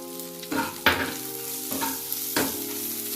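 Ground spices frying in a pan with a steady close sizzle, broken by four sharp scraping stirs at intervals, with no talk.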